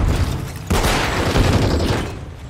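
Grenade blast in the Call of Duty Modern Warfare III video game: a sudden loud boom cuts in partway through, then a dense rumbling roar that slowly fades, with no talking.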